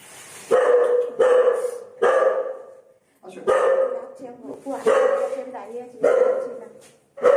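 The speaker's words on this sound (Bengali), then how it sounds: "আমাদের আওয়াজ পেয়ে কুকুর ডাকা শুরু হয়ে গেছে" A dog barks loudly and repeatedly in spaced bursts, close by, with short pauses between barks.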